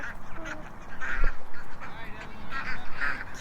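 Several ducks quack and honk intermittently nearby, a short outdoor stretch of repeated calls with no talking.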